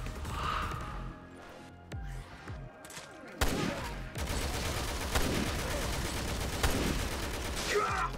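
Rapid bursts of gunfire in a shooter video game, with repeated sharp shots, crashes and impacts over a busy, noisy game soundtrack, loud and close throughout.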